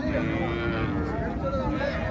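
A cow at a Sahiwal cattle market gives a long, low, steady moo close by, with people talking in the background.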